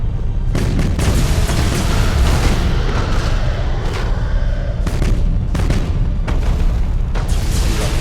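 Warship broadsides thunder in the space combat game Battlefleet Gothic: Armada, a dense barrage of loud, overlapping booms and heavy blasts rolling continuously, with sharper bursts punctuating the roar.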